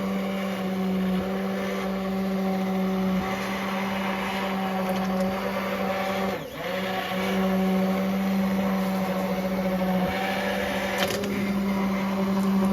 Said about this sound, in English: Justin wanted to try this blender thingy, and it's really hot